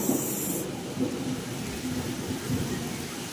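Heavy night-time rain pours down during a power cut, a dense roar close by with deep rumbling thunder rolling underneath throughout.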